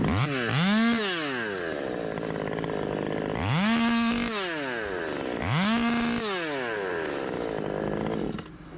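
A 39cc top-handle chainsaw revs up sharply three times while cutting a branch, each burst climbing to a loud whine before easing back, with a rough idle in between.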